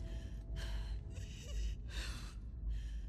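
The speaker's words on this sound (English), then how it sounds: "Your breathing's worse." A character in The Last of Us Part II breathes in labored, ragged gasps, five heavy rasping breaths in a steady uneven rhythm, close and fairly quiet.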